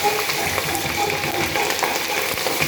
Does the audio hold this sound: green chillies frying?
yes